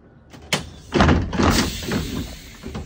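A city bus door bangs open with a sharp knock, then slides and thumps shut amid a run of rattling mechanical clunks, loud and close.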